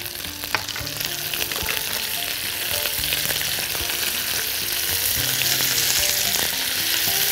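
Sliced onion and garlic frying with browned meat in a pan, a loud dense sizzle that runs steadily throughout, close up with faint stirring scrapes and no talking.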